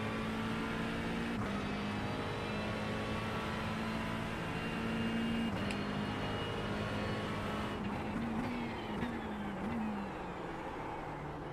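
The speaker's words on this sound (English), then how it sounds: "really aggressive downshifting." A race car engine drones steadily during endurance practice at Sebring for the 12-hour race, driven by the SRK Pink Endurance team. The car downshifts hard near the end, and the engine note jumps and drops.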